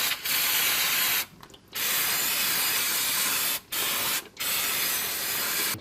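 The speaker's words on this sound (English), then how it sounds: "Now we'll give it a bit of a spray with some degreaser." Steady hissing bursts of an aerosol degreaser sprayed onto a 4WD transfer case, a few long sprays separated by short pauses, close by with no talking.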